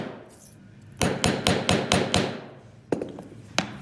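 A mallet strikes a copper and brass jewelry inlay to flatten it: a run of six sharp, evenly spaced knocks close up, a short pause, then a few more blows.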